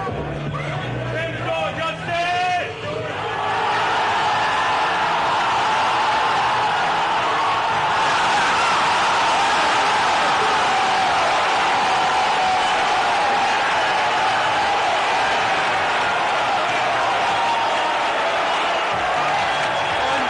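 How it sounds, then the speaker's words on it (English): A large crowd's roar that swells and builds into a sustained, loud wall of cheering and babble, with a brief quieter moment near the start before the noise surges. "the roar gets louder and louder"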